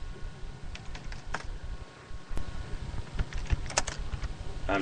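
Rapid clicking of fingers typing on a computer keyboard, close and steady with brief pauses between bursts of keystrokes.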